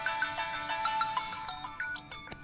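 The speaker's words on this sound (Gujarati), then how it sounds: "આ કોનો ફોન વાગે છે? અરે તમારો વાગે છે." A mobile phone ringtone plays a bright repeating melodic pattern at moderate level in a comedy scene, continuing steadily without speech over it.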